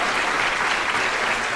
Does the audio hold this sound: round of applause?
yes